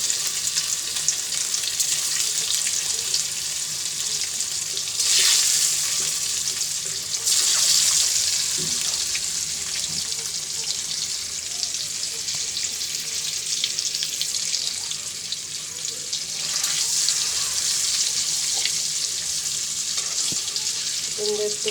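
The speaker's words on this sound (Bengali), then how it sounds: "ডিমটা একটু বেজে নিব।" An egg fries in hot oil in a home kitchen wok, giving a steady, fairly quiet crackling sizzle that swells louder a few times and continues unbroken throughout.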